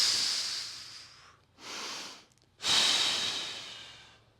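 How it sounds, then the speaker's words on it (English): Slow, deep breaths during a kneeling front line stretch: a long hissing exhale, a shorter inhale, then another strong drawn-out exhale, close and clear with no talking. "Let's do a couple more breaths."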